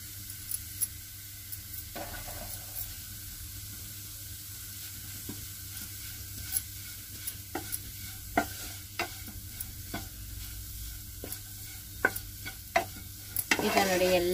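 Potatoes frying in a pan with amchur powder, stirred by a utensil: a steady low sizzle runs throughout, with scattered scraping clicks and a louder clatter of stirring right at the end, no talking.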